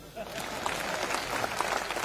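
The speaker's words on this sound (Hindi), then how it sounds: "अब बजाओ ताली।" An audience claps at a poetry recitation, soft and somewhat distant, a loose patter of hands rising after a quiet start and continuing under faint background noise.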